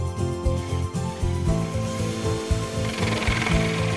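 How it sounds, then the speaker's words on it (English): A 32mm hole saw bit drilling a cylinder hole through a door for a Gainsborough LocRight lock, a loud, whirring power-drill drone with grinding, chattering bites into wood that change pitch as the cut progresses. "Now drill the cylinder hole using a 32mm hole saw bit."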